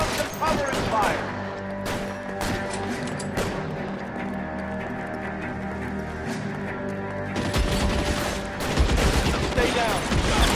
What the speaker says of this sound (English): Lay down some cover and fire.